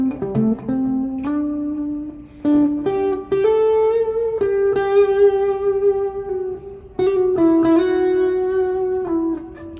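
Distorted electric lead line through the Shapr distortion plugin, with added reverb and echo, playing sustained bending notes loudly and alone with no talking.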